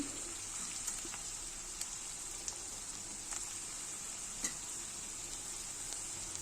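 Onions and tomatoes for a prawn curry fry quietly in a pan, a soft steady sizzle with a few faint ticks and pops, no voices.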